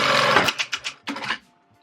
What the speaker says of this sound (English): So we're going to sew this.